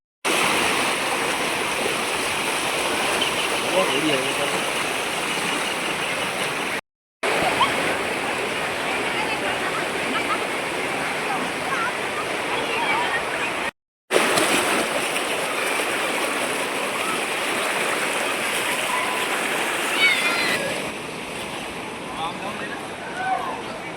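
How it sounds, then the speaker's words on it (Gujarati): A river in Datardi village flows after unseasonal rain, a steady broad rushing of water that is constant apart from two short breaks and softens slightly near the end. "છે ભાઈ આપણે દાતરડીની નદી"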